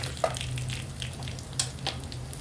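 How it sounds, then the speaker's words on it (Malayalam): Mustard seeds frying in hot oil for a tempering in a Kerala-style soya chunks and potato dish, giving a steady close sizzle with a few sharp pops and crackles scattered through the short stretch. "ഇത് കടുവ് വറുക്കാനായിട്ട് ഞാനിത് മൂപ്പിച്ചൊക്കെ റെഡിയാക്കിയിട്ടുണ്ട്"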